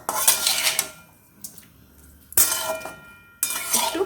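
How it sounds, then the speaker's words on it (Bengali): Papaya chunks and fried prawns being stirred together in a pan over high flame, heard as bursts of metallic scraping and clanking utensil against pan separated by short quiet gaps. "পেঁপেগুলো কিন্তু বড় বড় করে কেটে নিয়েছিলাম এবং ভেজে রাখা চিংড়ি মাছ একসাথে নাড়িয়ে দেব"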